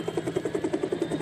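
Helicopter rotor chopping steadily overhead while filming a rally car at the 2012 Rally Finland, a rhythmic thumping pulse about eight beats a second, moderately loud and unbroken.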